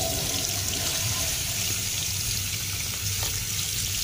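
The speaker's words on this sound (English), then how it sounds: "Water on the back, water on the front." Water is poured steadily over a Huawei P10 Plus smartphone, making a continuous close hiss and splash with no pauses.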